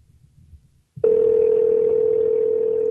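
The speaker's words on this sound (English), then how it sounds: "Come on, answer the phone." Outgoing Google Voice call tone starts abruptly after quiet rustling, a loud steady single-pitched electronic tone that holds without a break to the end.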